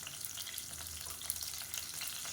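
Curry leaves, coriander, mint and green chillies fry in oil for a Madurai-style salna, a faint, steady crackling sizzle with small pops throughout, heard up close with no voices.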